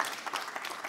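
Dense applause from an audience at a closing and awards ceremony of a statistics festival, a steady wash of many hands clapping for about a second without talk.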